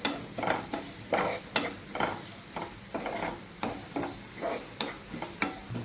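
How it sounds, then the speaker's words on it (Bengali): Choripan mixture of chili flakes and black pepper frying in a pan, stirred with repeated rhythmic scraping strokes over a soft sizzle, close and fairly quiet, with no voices. "দিয়ে এবার এই সব কিছুকে একটু মিশিয়ে নেবো।"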